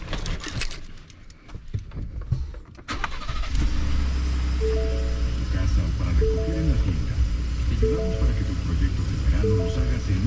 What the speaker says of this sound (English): let's turn the truck on so you guys can kind of hear also how it sounds.